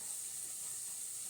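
Water added to a hot pan of butter and garlic, cooking alongside head-on prawns and broccoli, hisses and steams in a steady, even sizzle that stays soft and constant with no talking.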